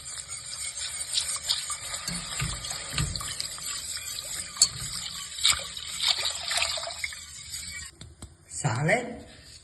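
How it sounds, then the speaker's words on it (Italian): Milk poured into a béchamel sauce in a home kitchen, a steady liquid splash and trickle running for several seconds, ending in a brief louder gush, with a voice talking over it. "A questo punto aggiungiamo il latte."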